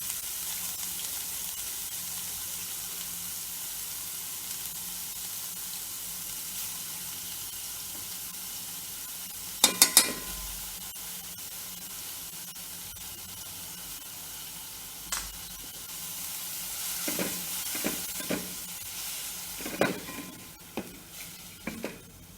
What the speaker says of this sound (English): I'm raising the flame a little bit so that palak gets sauteed very well